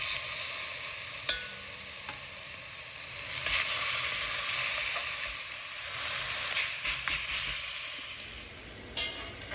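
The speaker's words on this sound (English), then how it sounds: "We're just going to brown them off on all sides." Short ribs browning in a hot Dutch pan give a steady, close sizzle and spit of frying meat, with occasional sharper crackles and stirring noises over the continuous hiss.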